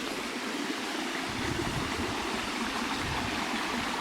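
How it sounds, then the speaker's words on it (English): Steady rushing water flows continuously through a mill race, a dense, even roar of a fast channel heard close by with no voices. "with this wonderful sound of running water"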